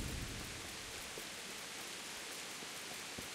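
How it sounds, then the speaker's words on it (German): Steady rain hisses across the whole stretch in the medieval role-playing game Kingdom Come: Deliverance, a dense, even wash of falling water with faint scattered drops and no voices. "Ach, guck mal, es regnet jetzt auch."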